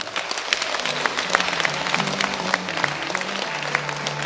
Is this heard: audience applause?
yes